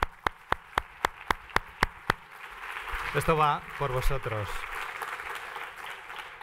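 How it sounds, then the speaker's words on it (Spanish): Clapping for the technicians at the closing of a gathering opens with a run of sharp, evenly spaced claps, then someone speaks briefly over softer, scattered applause. "por favor, un aplauso."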